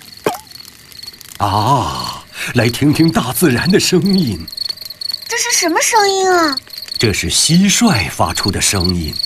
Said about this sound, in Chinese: 这是蟋蟀发出的声音